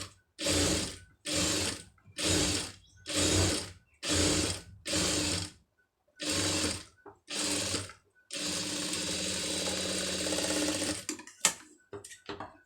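A sewing machine stitches a puff sleeve in repeated short bursts of motor whir separated by brief pauses, ending with a longer continuous run and a few light clicks.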